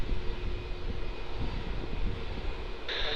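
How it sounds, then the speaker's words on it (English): Airbus A350 jet airliner engines roar steadily at an airport, a broad continuous rumble at moderate distance with no speech. "A great looking A350 dedicated right there to Max"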